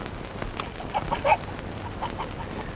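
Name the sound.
chicken clucking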